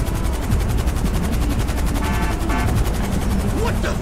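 Gunfire in the video game GTA V, short bursts of rapid automatic shots over a constant loud helicopter rotor drone, with a faint voice near the end.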